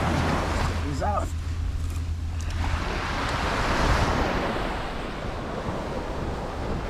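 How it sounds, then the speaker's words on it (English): Ocean surf rolling onto Seven Mile Beach in the Cayman Islands, a steady broadband wash with wind noise buffeting the microphone, plus a brief whistle-like tone early on and a low hum that fades after a few seconds. "welcome to 7 Mile Beach"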